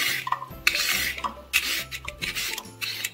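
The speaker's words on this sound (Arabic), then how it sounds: "هذا الجزرة قشرتها وغسلتها وكل شيء، الآن راح نبشرها" A peeled, washed carrot rubbed against a hand grater in a kitchen, giving repeated rasping strokes in an even back-and-forth rhythm, close and moderately loud with no talking.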